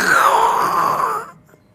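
A voice imitates a fat peacock snoring: a single drawn-out nasal groan with a wavering tone, close and fairly loud, fading out after about a second and a half.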